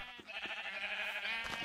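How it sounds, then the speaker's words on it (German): Sheep bleating in the Minecraft video game, a few quiet nasal baa calls in quick succession, faint and alone without talk. "Ich muss weiterhin die Schafe erstmal scheren."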